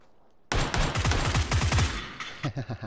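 Gunfire from a player shooting in PUBG, a burst of rapid shots starting abruptly and running loud and dense, followed by several spaced single reports trailing off.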